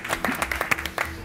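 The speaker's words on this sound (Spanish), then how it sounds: "fuertes aplausos" Scattered, uneven clapping from a small audience on a cooking competition show, a brief patter of claps that stays moderately loud.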